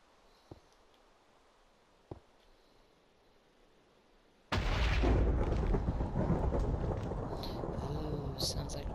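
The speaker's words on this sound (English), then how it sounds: "Ooh, sounds like we're getting a thunderstorm." Thunder rumbles in a SpongeBob Bikini Bottom video game: after a few quiet clicks, a sudden loud, sustained roar of thunder and storm noise takes over and stays close and heavy.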